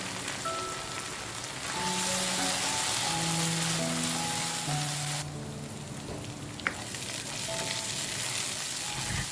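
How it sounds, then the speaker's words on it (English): Chilli paste mixed with roasted belacan powder fries in hot oil, giving a steady broadband sizzle with light stirring and a brief sharp clink near the end, alongside faint tonal background music. "Let's now cook this chilli paste until the raw smell is gone."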